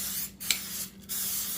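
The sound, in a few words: non-stick cooking spray sprayed into cast iron skillet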